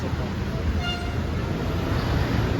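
An LRT or MRT train in Pasay rumbles past on the rails, a steady loud roar with a brief high squeal near the start and a faint murmur of voices beneath.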